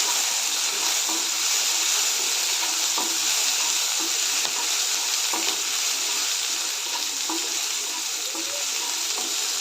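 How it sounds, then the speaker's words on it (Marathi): Peas and carrots sizzle in hot oil in a pan for oats upma, a dense, continuous frying hiss with faint stirring ticks, and no talk. "मटार गाजर सर्व पर तेलामध्ये चांगलं परतून घ्यायचं आहे"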